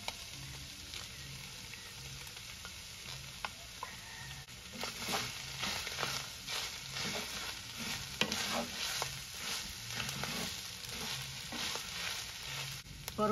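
Chile and onion fry together in a pan for pork rellena (moronga), making a soft, continuous sizzle with faint stirring scrapes that rises slightly partway through.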